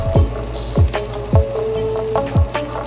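Turmeric, spices, chopped tomato and browned onions sautéing in a pan for an aloo baingan sabji give off a steady sizzle, with four loud, evenly spaced spoon knocks or scrapes against the pan and no talking.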